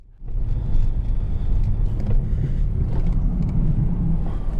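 Steady low road rumble and engine drone from a car driving during a steering test, starting abruptly and continuing at an even, loud level with no voices.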